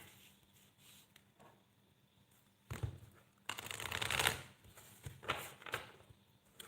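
Wisdom oracle cards are shuffled during a live tarot reading, with soft riffling and patting that swells into a louder flurry of shuffles, close by and with no talk over it.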